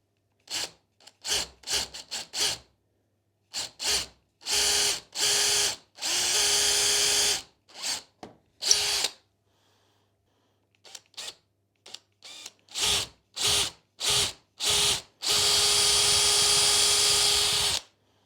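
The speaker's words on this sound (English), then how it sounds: "now I just need to drill this 20mm hole" A power drill boring a 20mm hole in a wooden guitar body whirs in a series of short bursts with pauses between, ending in a longer sustained run, close and fairly loud.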